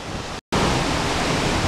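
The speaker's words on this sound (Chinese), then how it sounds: "我们现在来到了这个瀑布底下，这个水汽扑面而来，非常的湿" Vernal Fall in Yosemite, heard from right beneath the falls amid drenching spray: a loud, dense, steady roar of crashing water filling the whole clip, cut by one brief dropout near the start.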